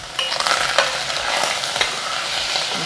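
Mushrooms frying in a pan for a pork steak dish sizzle steadily up close while a utensil stirs them in repeated scraping strokes.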